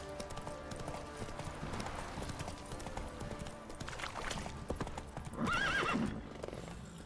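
Roach, the horse in The Witcher 3, gallops with rapid clip-clopping hooves, then lets out a loud, close neigh near the end over faint game background sound.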